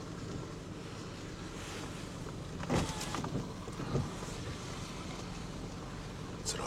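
A new car fords a stretch of water: faint, steady wash and wind rumble, broken by a few brief splashes as the wheels push through.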